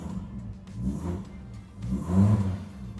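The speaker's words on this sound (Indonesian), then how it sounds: "Dia dong RPM-nya naiknya juga enak banget" Volvo 960 executive sedan engine revving, two smooth low rises in engine speed, each climbing and falling back, the second louder, heard close with no one speaking.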